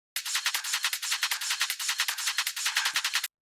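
Groovy hi-hat drum loop for a hard trance track: rapid, tightly repeating bright metallic ticks in a steady swung pattern, loud and alone for about three seconds.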